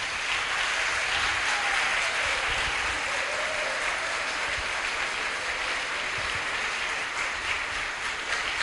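A church congregation at a women's congress applauds in a sustained, dense wash of clapping that fills the whole stretch at steady loudness, with no talk over it.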